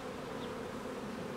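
Honeybees at a queenless hive make a dense, continuous buzz, a steady close drone with no voices over it.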